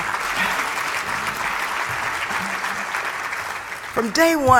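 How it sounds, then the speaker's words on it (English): Audience at an awards gala honoring Congresswoman Barbara Lee applauds steadily for Jeremy, the J Street leader, a dense, even wash of clapping that holds throughout before a voice begins speaking at the very end. "Give Jeremy a round of applause"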